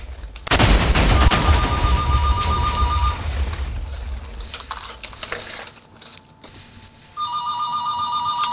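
Video game map destruction with explosions going off, a loud sustained rumbling blast with crackling debris, then a second burst, while a bright bell-like ringing tone sounds over the top at the start and end.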